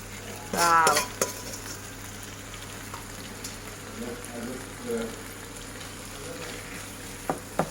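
Prawn roast being stirred through its gravy in a pan, giving a close, steady sizzle with scraping stirs and a brief louder clatter near the start, with no talking.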